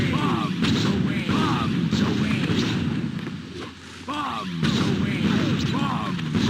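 Loud, continuous bursts of video game explosions and gunfire from a bomb hit in Punch Time Explosion, a cartoon fighting game, with dense rumbling impacts and layered chirping effects throughout, briefly dipping before resuming.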